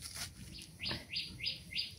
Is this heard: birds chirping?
yes